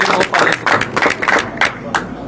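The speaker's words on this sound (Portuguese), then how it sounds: "Palmas para a imprensa." Applause for the press at a political speech in Brazil: a short stretch of brisk, uneven handclaps, close and fairly loud, from what sounds like a small group.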